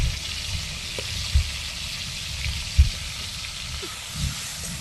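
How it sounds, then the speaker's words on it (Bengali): Ginger paste hitting hot oil with softened, salted tomatoes in a village kitchen pan, giving a steady broadband sizzle and hiss with a few soft low thumps and splutters, no voices. "এই আদা দিলেই ছেটকাবে"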